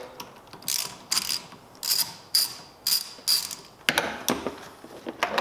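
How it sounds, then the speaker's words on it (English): Ratcheting clicks from a hose clamp being loosened on the intake of a 2017 Honda Civic Si, a steady run of sharp, close mechanical bursts in an even rhythm, briefly pausing before a denser final stretch, with no talking. "Go ahead and loosen this clamp up a little bit."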